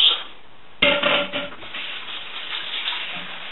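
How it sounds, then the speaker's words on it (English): Vegetables and whole chicken pieces tumble into a soup pot, one loud clattering thud followed by softer rustling and settling, close up, with no talking. "Just dumping in all my vegetables."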